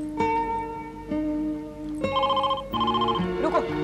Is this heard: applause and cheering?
no